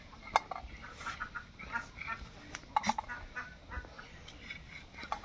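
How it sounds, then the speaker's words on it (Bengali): Chinese ducks honk and quack in short, scattered calls close by, fairly faint over a soft outdoor background. "এখানে আপনারা দেখতে পাচ্ছেন আমাদের যে চীনা হাঁসগুলো আছে, এগুলো সারাক্ষণ পিছনে পিছনে ঘুরে।"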